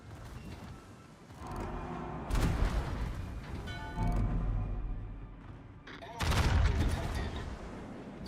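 Naval guns fire in World of Warships: three heavy, booming salvos land a couple of seconds apart, each a broad, loud blast that decays into a rumbling tail.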